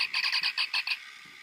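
Doctor Who sonic screwdriver toy giving off a buzzy, warbling electronic pulse, about eight quick rhythmic chirps close up, then fading to a faint hiss.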